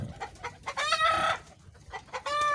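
Desi chickens cluck close by in short, rapid bursts, with one louder drawn-out call among the quick clucks.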